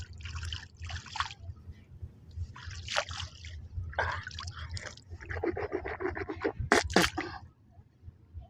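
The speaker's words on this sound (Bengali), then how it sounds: "পদ্মার পানি দিয়ে কুলি করতেছি।" Water from the Padma river splashes and trickles as a person rinses out their mouth close by, in several separate bursts of swishing and dribbling over a low outdoor rumble.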